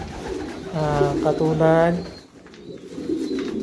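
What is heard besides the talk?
racing pigeons cooing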